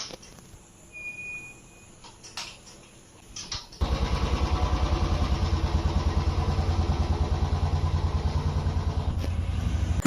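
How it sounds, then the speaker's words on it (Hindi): A motorcycle engine starts after a few seconds of quiet clatter, then runs with a steady, loud, throbbing idle close by while a child is given a bike ride. "यहाँ पे हस्बैंड युवान को बाइक में घुमा रहे थे।"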